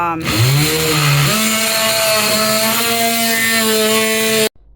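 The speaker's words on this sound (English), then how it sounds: "To get this to fit, I need to cut away some baseboard" Power saw cutting through a wooden baseboard during a bathroom shelving install, a loud, steady whining drone with a pitch that steps up partway through, then stopping abruptly at the end.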